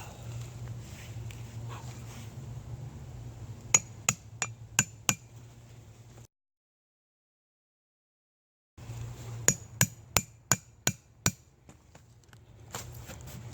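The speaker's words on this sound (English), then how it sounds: "Trying to lift it up with the chisel on one side so I could cut easier coming through" A chisel working a fatwood stump outdoors gives two bursts of five or six sharp, evenly spaced metallic strikes, close and crisp, separated by a silent gap over a low steady background hum.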